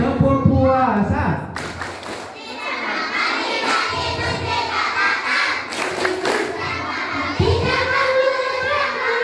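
Children at an Islamic Quran lesson chant and clap along to a rhythmic fasting clap song, shouting voices mixed with bursts of hand claps in a busy, loud room.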